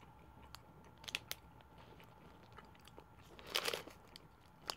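Bites and chews of an oat endurance bar with chocolate chips, heard as a few faint crunchy snaps early on and a louder crunching burst near the end, close and quiet with no talking.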